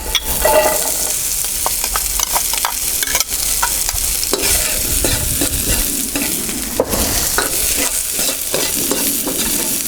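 Onion hitting a smoking-hot wok for Chinese takeaway salt and pepper chicken: a loud, continuous sizzle right up close, with frequent clatters and scrapes of tossing and stirring throughout, and no voices.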